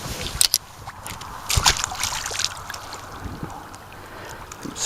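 A small fish released back into a river at dusk splashes and sloshes in the water close by, with brief bursts of movement over a steady running-water background and no talk.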